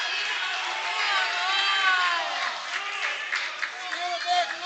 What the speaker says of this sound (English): Emporia crowd trying to make noise